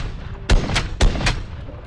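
Barrett M82-style anti-materiel rifle firing in Fallout 4, three or four heavy booming shots in quick succession with short rumbling tails, loud and close.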